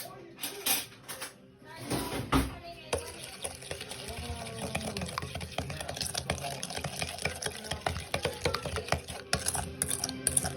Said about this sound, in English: I'm going to go ahead and stir this again and get my pork in there.